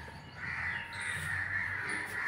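Crows caw outdoors in the morning from a tree, several harsh calls overlapping at a moderate distance against a steady background hiss, with no one speaking.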